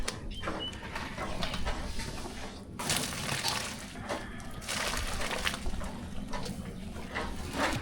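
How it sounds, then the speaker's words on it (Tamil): Water poured off a pot of cooked rice through a strainer while making white sambar, a steady close splashing wash with brief clinks and surges and no talk. "சோறு நல்லா வந்துட்டு இப்போ தண்ணி வடிகட்டி எடுத்துக்கலாம்"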